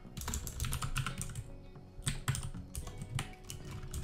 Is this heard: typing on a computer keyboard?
yes